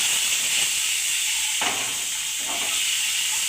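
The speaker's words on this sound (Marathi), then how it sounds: "असे फ्राय करून घ्यायचे थोडेसे." Eggs fry on a hot tawa with salt, giving a steady bright sizzle that runs throughout. Two short surges in the middle sound like stirring or the egg being moved, with no talk over it.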